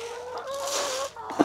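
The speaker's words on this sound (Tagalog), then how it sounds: "Mao ni mga manok atong gigrow og mangitlog po ni sila" A backyard egg-laying hen in Cebu gives a drawn-out, wavering cluck up close, followed by a short sharper cluck at the end, with quiet farmyard background.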